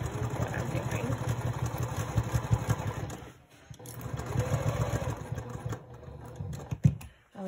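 A sewing machine stitches handbag interior and exterior pieces together, a steady close whirring hum of rapid needle strokes that pauses briefly midway and then resumes, with a voice speaking over it.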